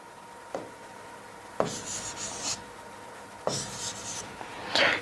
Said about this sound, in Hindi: इसको एज इट इज यहां पे हम लिख देते हैं